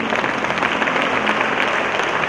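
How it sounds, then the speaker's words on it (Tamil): Continuous, dense applause from a congregation at a church shrine in Viveknagar, Bengaluru, with many hands clapping close by and no pause. "கைத்தட்டி கடவுள் நன்றி சொல்லுங்க."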